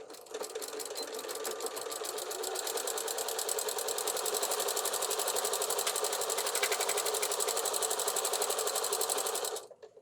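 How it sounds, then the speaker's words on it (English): A sewing machine runs steadily, top stitching the folded top edge of a pocket piece on a utility waist apron, a fast even whir of needle strokes lasting nearly the whole stretch before stopping abruptly. "that's what we're top stitching"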